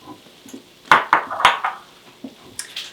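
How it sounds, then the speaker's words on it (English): A skillet of keto cheesy Mexican mix is lifted off the heat and set on another stovetop burner, giving a few close metallic clanks and scrapes within a couple of seconds. "I'm going to remove my skillet from the heat and move it over here to this other burner"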